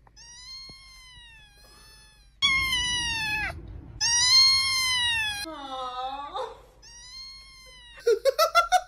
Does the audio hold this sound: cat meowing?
yes